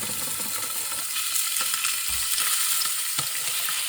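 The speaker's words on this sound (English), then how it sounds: "So that's getting nearly hot, so in with the liver" Liver and bacon sizzle steadily in a hot pan, a dense continuous crackle with occasional scrapes and a soft clunk of the utensil stirring, close and fairly loud with no voices.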